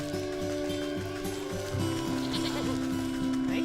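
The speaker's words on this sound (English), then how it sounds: "I hear you over there, goats." Goats bleating in the video game Wytchwood, a series of short rhythmic game-style bleats repeating over a low ambient background.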